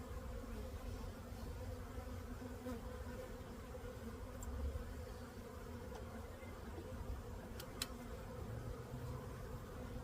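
Honey bees from a package being installed into a Layens hive, a dense, continuous buzzing hum that stays steady and close throughout, with no voices.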